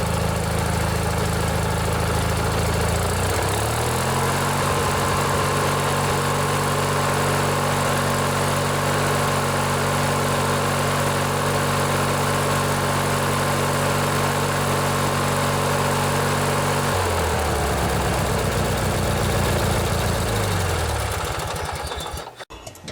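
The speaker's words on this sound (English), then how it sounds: "This is one of my favorite engines that Briggs and Stratton ever built." A small Briggs and Stratton twin-cylinder lawnmower engine idles steadily and loudly up close, revving up early, holding a smooth even drone, then dropping back before cutting off.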